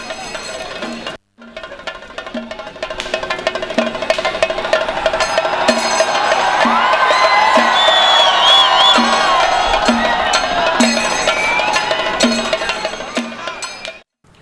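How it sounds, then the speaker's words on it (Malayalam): A crowd of festival-goers at Thrissur Pooram cheering loudly to welcome the elephant Thechikottukavu Ramachandran near the pandal, a sustained roar of shouts and whoops over a rhythmic beat and whistles, building and then cutting off abruptly. "നായ്ക്കനാൽ പന്തലിന് സമീപമെത്തിയ തെച്ചിക്കോട്ടുകാവ് രാമചന്ദ്രനെ ആർപ്പുവിളികളോടെ പൂരപ്രേമികൾ വരവേറ്റു"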